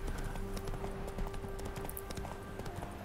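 Horse hooves gallop in The Witcher 3 video game, a quick, even clip-clop rhythm that stays steady and fairly soft throughout.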